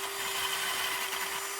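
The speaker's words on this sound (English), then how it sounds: "I'm just cleaning up these lugs a bit with my wire wheel" Wire wheel scrubbing wheel lug nuts that are smeared with anti-seize, a steady, dense whirring grind with a constant tonal hum, close and loud without a break and with no talk.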